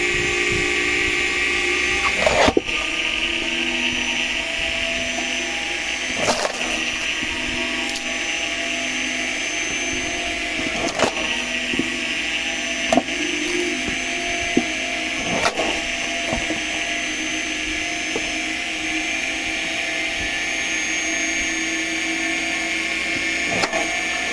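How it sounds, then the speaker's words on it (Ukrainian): A homemade screw log splitter driven by a washing machine motor hums and whines steadily and loudly, with occasional sharp cracks and knocks as wood splits. "Можна таким станочком кольнути за годину до 300 метрів дров."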